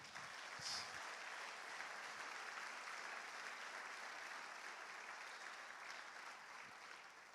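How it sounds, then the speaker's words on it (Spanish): A church congregation applauds steadily during a Spanish-language worship service, a dense, even wash of many hands clapping that holds for several seconds before easing slightly at the end. "¿Puede aplaudirle al Señor?"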